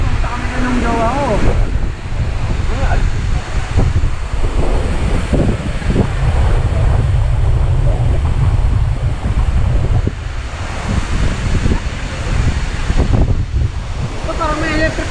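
Strong wind buffeting a microphone at Balagbag beach, a continuous low roaring rumble with surf-like swells, and people talking intermittently underneath.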